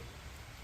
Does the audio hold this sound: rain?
yes